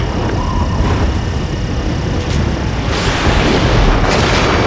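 Missile launches and explosions amid jet combat in Ace Combat 7: Skies Unknown, a dense, loud roar with booming blasts and rushing bursts layered over constant engine noise.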